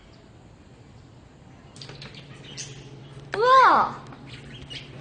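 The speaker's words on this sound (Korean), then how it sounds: "앵무새야!" A parrot at Dalseong Park zoo in Daegu gives one loud, harsh, rising call lasting under a second, close by, after soft background chatter and crowd noise.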